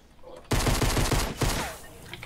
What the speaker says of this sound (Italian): Da davanti mi ha sparato.